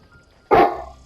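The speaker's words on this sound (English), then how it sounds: "it's my dog." A single loud, close dog bark bursts out of near silence and rings briefly before fading.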